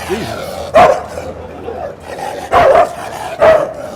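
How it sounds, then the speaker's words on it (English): An angry dog barks three times in sharp, loud bursts spread across a few seconds, separated by quieter background noise. "Jeez, that's an angry dog."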